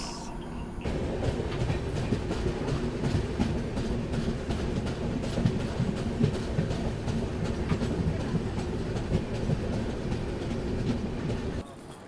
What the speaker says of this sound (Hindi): कोंकण कन्या एक्सप्रेस।